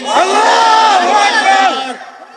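A crowd shouts the Nara-e-Takbir slogan in unison at a rally, a loud, close, sustained roar of many voices chanting together that cuts off sharply after about two seconds.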